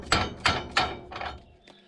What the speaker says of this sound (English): This is my torque hammer, by the way.